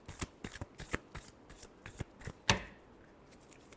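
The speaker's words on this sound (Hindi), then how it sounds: "Last shuffle." Tarot cards being shuffled by hand, a steady run of quick papery riffles and flicks, close and fairly quiet, ending with one sharper slap before a brief fade, with no talking.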